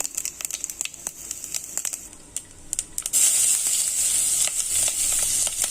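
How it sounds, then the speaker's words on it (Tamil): Mustard seeds, cumin and a dried red chili hit hot oil, with scattered sharp pops and crackles at first, then a sudden loud, sustained hissing sizzle close by. "கடுகு பொரிஞ்ச உடனே நம்ம சீரகமும் ஒரு காஞ்ச மிளகாவும் போட்டுப்போம்."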